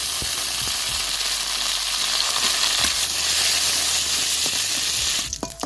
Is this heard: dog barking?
no